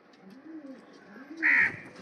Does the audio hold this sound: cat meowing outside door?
no